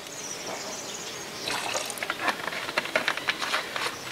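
Water trickles and drips during interior washing of a Renault Laguna with an automatic gearbox, a steady wet hiss giving way to sharper scattered splashes and dribbles, close by with no talking.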